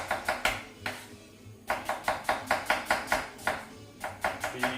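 Two onions sliced with a knife on a kitchen counter: a steady run of close, crisp chops in quick bursts of four to six strokes, separated by short pauses.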